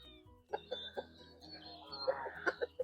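Backyard hens raised as meat birds clucking, a string of short, quiet clucks and soft calls in an uneven rhythm, close by over a faint low hum.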